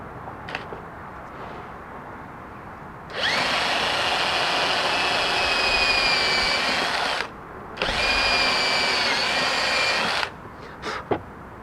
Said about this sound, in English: Pull out one of the pins and drill through that one.